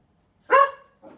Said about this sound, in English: And now my dog is going off.